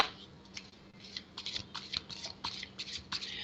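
Tarot cards shuffled by hand before a reading, giving a run of soft, crisp riffling bursts that come in uneven pulses, close and fairly quiet, with no voices.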